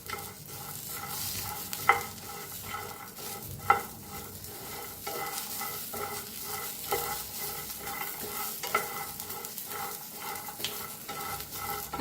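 Cumin seeds, curry leaves and coriander dry roasting in a pan without oil, with a spatula stirring and scraping in a steady rhythm, a few sharper clinks against the metal, close and continuous with no talk.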